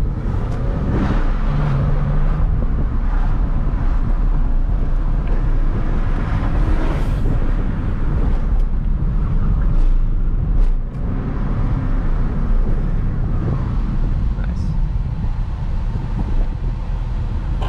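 Porsche 911 on a test drive, its engine a steady loud drone mixed with heavy wind buffeting and road roar throughout, no voices.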